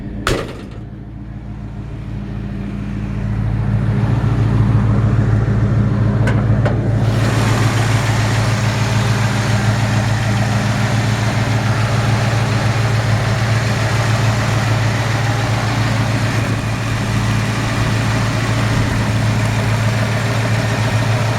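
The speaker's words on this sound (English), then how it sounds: "Good smooth running engine." A 1966 Ford F100 pickup engine idles steadily and smoothly, a low continuous rumble that holds at an even level after starting up, with no talking.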